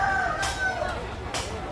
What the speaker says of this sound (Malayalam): നാടൻ കോഴി,